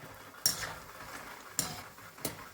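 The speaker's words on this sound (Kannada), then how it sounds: "ಈಗ ನಾನು ಗ್ರೌಂಡ್ ನಟ್ ಹಾಕ್ತಾ ಇದ್ದೀನಿ, ಕಡಲೆಕಾಯಿ ಬೀಜ ಹಾಕ್ತಾ ಇದ್ದೀನಿ." Peanuts go into hot oil in a home kitchen while making a crispy mixture snack, giving three sharp splashing hits followed by soft sizzling.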